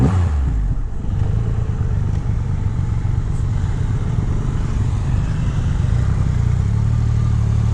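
Triumph Rocket 3 GT with its 2500 cc engine pulling hard in low gear, a loud, steady, deep motorcycle drone that holds throughout with a slight rise near the end.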